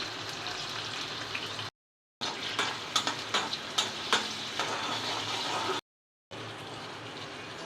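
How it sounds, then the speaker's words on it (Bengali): Chopped garlic and onion fry in hot oil, a steady broadband sizzle with brief crackles and stirring scrapes, broken by two short silent gaps; no voices. "এখন তেলটা দিয়ে দিচ্ছি। তেলটা একটু গরম হোক। রসুন কুচি দিয়ে দিলাম"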